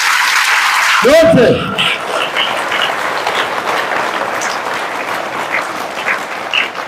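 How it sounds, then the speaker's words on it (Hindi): Children at a church retreat clap for themselves in a sustained, busy patter of applause that fills the room. A short spoken phrase sounds near the start. "अपने आप को ताली बजाओ अपने आप के लिए"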